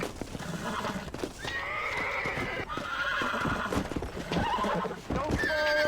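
In the Red Dead Redemption video game, a horse being broken neighs and whinnies repeatedly over clattering hooves, loud and close, while voices talk throughout.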